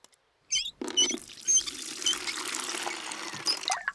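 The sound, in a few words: water being poured into a bucket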